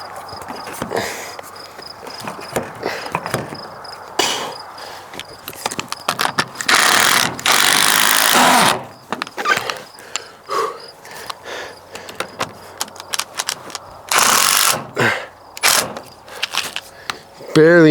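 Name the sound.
screwing the heavy archery stand into the back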